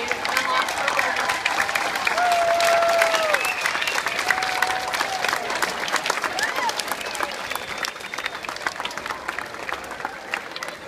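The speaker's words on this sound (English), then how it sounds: "One more time, let's give her a big round of applause." Audience gives sustained applause for the California Teacher of the Year, steady clapping with scattered cheers and crowd murmur, swelling early and gradually easing off.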